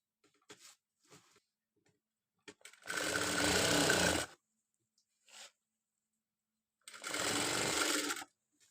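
An electric sewing machine stitches blouse fabric in two sustained loud runs of about a second and a half each, separated by quiet pauses with light handling clicks.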